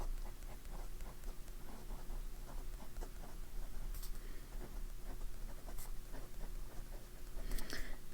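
Fine-nibbed Montblanc fountain pen inked with Montblanc Irish Green, writing on paper: soft, quiet scratching and light tapping strokes, close and faint throughout with no voice.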